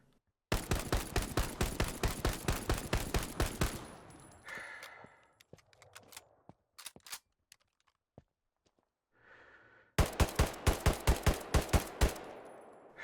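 German weapons in the WWII shooter Hell Let Loose, a long loud burst of rapid automatic fire, a gap with bolt and handling clicks and scattered single shots, then another rapid burst.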